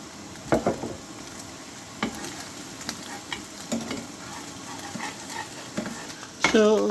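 Minced meat keema sizzles gently in a pan while a utensil scrapes and knocks to break it up, in scattered strokes over a steady frying hiss.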